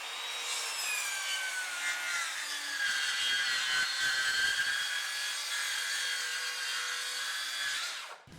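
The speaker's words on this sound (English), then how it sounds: "Alright, let's do the Makita now," A Makita 36v rear handle circular saw rips straight down the middle of a wooden board, a loud continuous whining cut lasting about eight seconds close up, then the motor stops abruptly.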